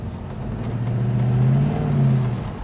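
A 1970s Leyland P76 car engine hums and revs steadily upward, close and continuous, rising slightly in pitch before easing off.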